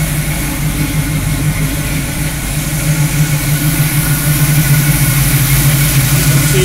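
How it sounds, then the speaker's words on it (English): A 1968 Chevrolet Camaro engine idles steadily and close by at night, a continuous low rumble with a faint whine above it, holding constant with no voices throughout. "Here's the engine running."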